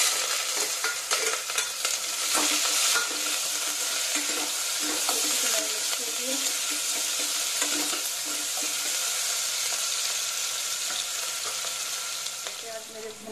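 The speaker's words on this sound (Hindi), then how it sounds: "प्याज मेरे भून गए हैं" Onions fry and sizzle steadily in oil with asafoetida, hot red chilli and bay leaf while being stirred, a continuous close hiss with scraping strokes and no talk.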